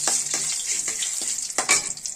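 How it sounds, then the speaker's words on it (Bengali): Bay leaf and a dried red chilli crackle in hot oil, a bright close sizzle with several sharp spits and pops, heard alone without voices. "তেজপাতা দিয়ে দিচ্ছি। কি বার করছো? শুকনো লঙ্কা একটা"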